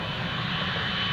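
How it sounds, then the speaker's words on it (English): A fixed-wing airplane takes off at Newcastle International Airport, its engines giving a steady, loud roar with no one talking. "Clear for takeoff, let's go."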